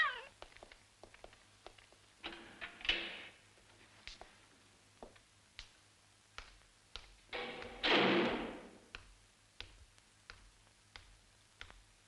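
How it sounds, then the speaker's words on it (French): A cat meows twice, fairly close, in a quiet room from a French crime drama film, with light taps and thumps around the cries. "Je te dis que c'est un chat."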